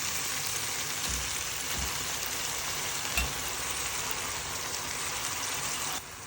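Sardines sizzle in a pan with sautéed tomatoes, a steady broadband frying hiss with a few soft thumps and crackles throughout, close and even, briefly dropping at the end.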